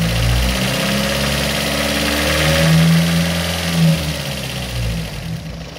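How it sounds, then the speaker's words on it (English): A car engine idling and revving with an odd noise suspected to come from valve clearance (valve lash) that needs adjusting, a steady close mechanical drone that swells and eases, with no talking. "a weird sound coming from the engine"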